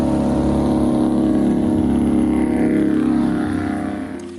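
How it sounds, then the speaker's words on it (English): A Detroit Diesel Series 71 two-stroke diesel engine runs loud and steady with a dense, droning roar and a high-pitched scream over it, holding constant before easing off slightly at the end. "part banshee wail, part mechanical thunder, announced a Detroit diesel two-stroke engine before you ever saw it"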